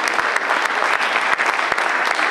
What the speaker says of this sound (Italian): applauso di benvenuto